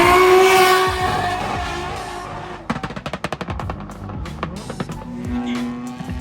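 A drift car on a Japanese race track sets out on its first lap of the day, its engine roaring up close before breaking into rapid, stuttering bursts and hard revs.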